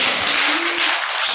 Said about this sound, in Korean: 그럴 때는 아멘 하고 하나님께 박수 한번 치야지.